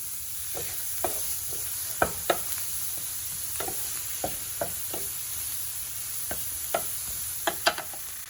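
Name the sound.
onions frying in a pan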